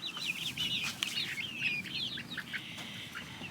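Mixed flock of White Leghorn, Rhode Island Red and Barred Rock laying hens in a coop, overlapping chirpy clucks and calls going on steadily throughout, near and moderately loud with no talking.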